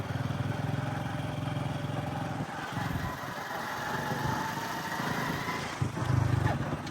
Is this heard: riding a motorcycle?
yes